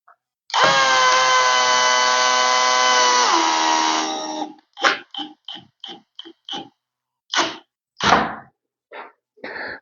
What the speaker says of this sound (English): hopefully all we should need to do is tighten the screws up